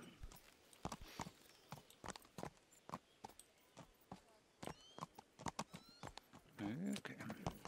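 Horse hooves clip-clopping in Kingdom Come: Deliverance II, a steady walking rhythm of crisp close hoofbeats, with a brief whinny near the end.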